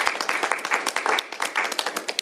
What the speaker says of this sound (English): Please give them a round of applause for their leadership on this bipartisan legislation